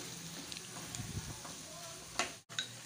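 Chili sauce being stirred into vegetables in a hot pan, a soft steady sizzle with a few scraping spoon strokes and a brief sharp clatter near the end.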